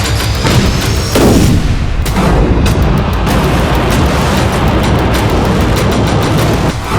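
Russian artillery strikes pound Lviv in a series of heavy, loud booms and blasts. The first one is close and large, and more rumbling detonations and crackling reports follow over a constant roar.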